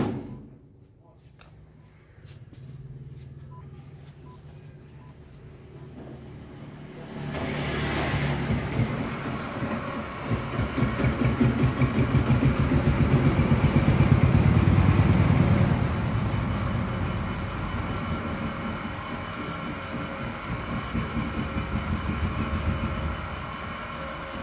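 A 12V 600W geared electric motor of the kind used for winches starts up on a bench after a quiet stretch. It settles into a loud, steady whirring drone that holds for the rest of the clip.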